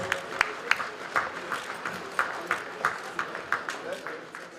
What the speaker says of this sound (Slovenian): Publika, en aplavz